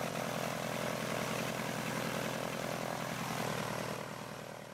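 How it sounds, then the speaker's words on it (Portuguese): A propeller airplane engine drones loudly and steadily in the BeamNG.drive video game, a dense unbroken roar that eases off slightly toward the end. "Nossa! Avião subiu!"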